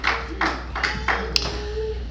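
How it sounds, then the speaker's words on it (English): Scattered hand claps from a church congregation, several separate bursts at an uneven pace over a low steady hum, with a sustained tone and a sharp tap partway through. "Gotta clap your hands, give God praise."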